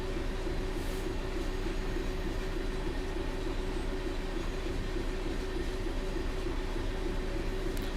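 A Class 66 diesel freight locomotive in Train Sim World 3 rolls through a UK station, with a steady, loud rumble of engine and wheels that holds throughout, with no speech.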